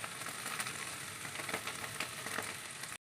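Chitol fish, boiled first, fries in a pan with cumin, turmeric and chili powder, giving a steady, close sizzle with scattered crackling pops and no voices.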